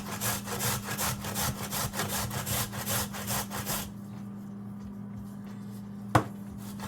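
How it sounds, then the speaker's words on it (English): A carrot is shredded for cabbage with rapid, rhythmic rasping strokes that run close and steady for about four seconds, then stop, leaving quiet room tone and one short knock. "I'm shredding the carrot for the cabbage"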